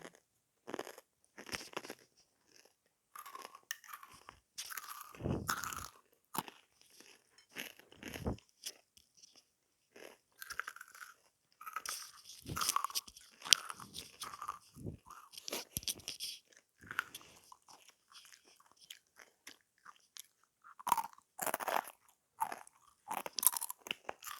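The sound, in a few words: eating and chewing crunchy food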